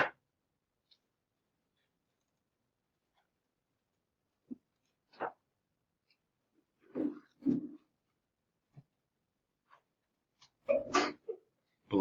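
A few short, sharp bursts including a sneeze, separated by quiet, in a mostly silent classroom.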